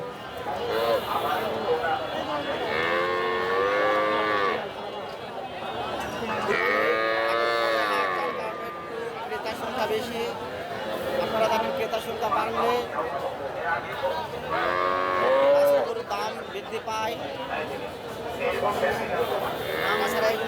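Calves and young bulls moo repeatedly at the Dhap livestock market in Dupchanchia, Bogura, Bangladesh, with long, loud calls rising over a steady crowd murmur.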